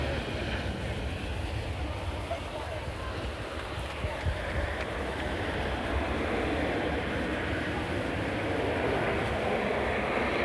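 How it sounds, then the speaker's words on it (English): A jet airplane circling over the field at the 1987 Moffett Field airshow gives a steady, loud broadband engine roar that holds throughout, with no clear rise or fall. "As the airplane now circles around and you can see the lower surface of the wing, you'll notice that it is considerably quieter."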